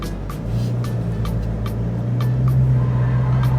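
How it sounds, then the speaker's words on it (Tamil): A Toyota Fortuner 2.8L SUV launching from first gear, with a steady, loud, low engine drone that rises slightly toward the end and faint repeated clicks over it, and no voices. "ஸோ வீல் ஸ்பின் ஆகுது."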